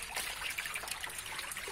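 Small koi fish, about 25 to 30 grams each, released into a farm pond, with a steady close trickle and splash of water running throughout, no voices.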